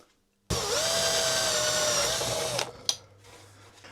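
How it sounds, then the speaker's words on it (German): A cordless drill mounted in a drill stand bores through screws, a loud steady whine starting abruptly, holding for about two seconds, then cutting off with a sharp clunk as the bit breaks through. "Ich werde eigene Schrauben nehmen und werde die durchbohren."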